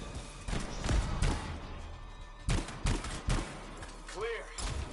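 Gunfire in the video game Anthem, sharp bursts of shots and impacts in quick clusters over a busy game soundscape, with a voice speaking briefly near the end.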